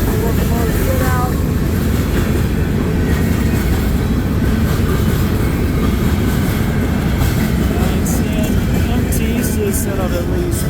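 Illinois Central freight locomotives working at the Ladysmith rail yard in Wisconsin, a loud steady rumble of diesel engines and rolling railcars with faint wheel clatter and squeal, continuous throughout, with voices mixed in.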